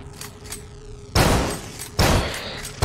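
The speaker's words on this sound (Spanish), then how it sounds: "Cada vez que te dan un disparo, te quitan vida" Gunshots from the video game Carrion strike the player in two heavy, booming bursts, each with a loud sharp onset and a decaying roar, after a quieter stretch of faint game sounds.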